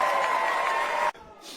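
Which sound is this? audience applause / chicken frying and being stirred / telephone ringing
audience applause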